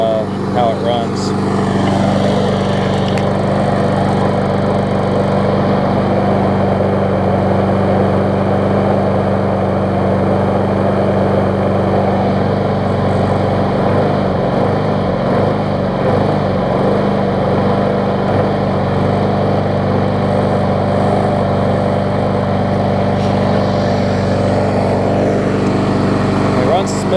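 A Bolens lawn mower engine, old and tilted on its side, runs steadily and loud throughout, a constant droning hum with a slight dip in pitch early on and some rough wavering midway.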